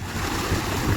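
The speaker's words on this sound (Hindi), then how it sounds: "उधर ट्यूबवेल चल रही है।" A village tubewell pump runs with water gushing out, making a loud, close, continuous rumbling rush for about a second.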